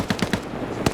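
Rapid automatic gunfire during a video game firefight, a quick burst of three close shots followed by one more after a short pause.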